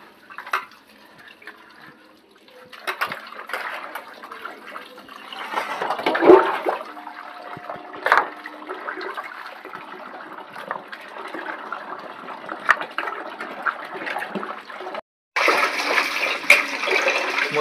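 Water runs and splashes while fish is washed in a home kitchen, with intermittent trickling, drips and handling clatter, and a brief cut before a denser stretch of flow.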